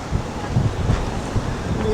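Wind rushes and buffets against the microphone in low, uneven gusts at the seaside in Japan at high tide, with a faint wash of surf beneath.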